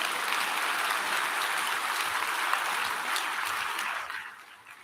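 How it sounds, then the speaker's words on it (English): Applause from an audience at a 2022 high school graduation ceremony for Welland Centennial graduates, a steady dense wash of clapping that holds evenly before fading near the end, with no talking. "Let's have a round of applause for these graduates."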